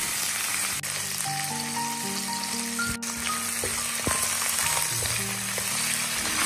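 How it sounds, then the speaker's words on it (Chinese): Pork belly stir-fried in a little oil in a wok gives a steady, close sizzle and crackle throughout, with a few brief clanks from the spatula against the wok. "锅中留底油，将五花肉倒进去，快速的翻炒，炒出它的香味和它的油脂"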